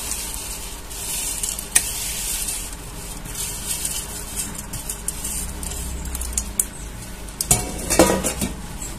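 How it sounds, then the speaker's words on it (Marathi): A spoon stirs boondi through sugar syrup in a pan, giving a soft continuous sizzling hiss with occasional utensil clinks and a louder scraping burst near the end, no voices. "आता बुंदी छान अशी इथं आपल्याला पाकामध्ये हलवून घ्यायची आहे"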